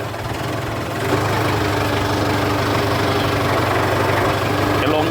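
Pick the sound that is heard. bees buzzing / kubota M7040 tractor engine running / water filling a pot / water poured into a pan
kubota M7040 tractor engine running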